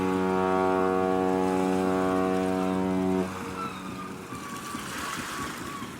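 A boat drifting past a beach sounds one long, loud, steady horn blast lasting about three seconds, which then cuts off and leaves soft outdoor ambience.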